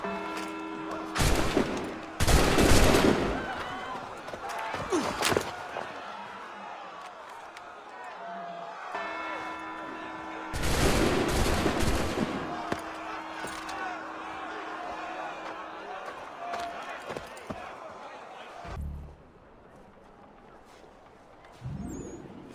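Musket volleys boom out in Assassin's Creed III, with broad bursts around two, eleven and nineteen seconds amid crowd commotion, and voices talk between the loud volleys.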